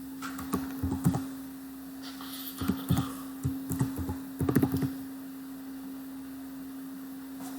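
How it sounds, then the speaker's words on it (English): Bursts of keyboard typing on a computer keyboard that is acting up, a few quick clustered clatters separated by pauses, fairly close, over a steady electrical hum with no talking. "Don't tell me my keyboard's acting up again."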